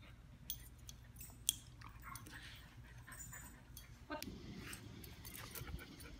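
A dog gnawing and chewing on another dog's ear, giving soft wet chewing and mouthing sounds close by, with a brief sharp click early on and louder rustling in the last couple of seconds.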